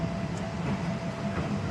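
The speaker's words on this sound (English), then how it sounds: "So we are here in Hualampong train station. We are waiting for our train." Hualampong train station in Bangkok fills the air with a steady, dense rumble of trains and platform bustle, plus a constant low hum. No single event stands out, and nobody speaks.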